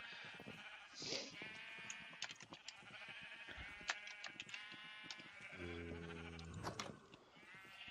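Repeated sheep bleats over a busy Minecraft soundscape with clicks and ambient effects, one longer low bleat standing out near the end.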